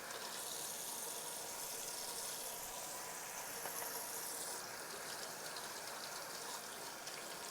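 Tap water runs steadily from a kitchen faucet over mushrooms being washed in a home kitchen, a continuous broadband gush with no talk over it.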